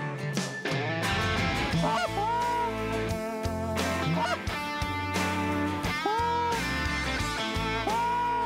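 Geese on a Montana goose hunt give repeated, loud honking calls that keep sounding in steady bursts across the whole stretch, rising over a dense layered backdrop with no talk.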